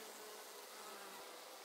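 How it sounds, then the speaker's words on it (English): Honey bees fly around their hives near sunset, a steady, dense buzzing hum that holds evenly throughout with no voices. "we can take a quick look if the bees are still flying"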